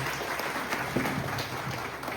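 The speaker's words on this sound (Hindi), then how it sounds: "तो इस बैनर के लिए आगे एक बार जोरदार ताली बजाइए।" Steady applause from an audience at a Jharkhand employees' association gathering, an even wash of many hands clapping at moderate loudness throughout, with no speech over it.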